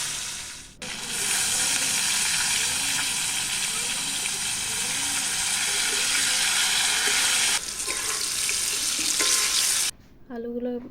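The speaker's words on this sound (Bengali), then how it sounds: "আলুগুলো বেশ ভালো করে ভেজে নেব লাল লাল করে।" Potato pieces frying in hot oil make a loud, continuous sizzle with stirring that runs for most of the span, then cuts off and gives way to a brief voice at the end.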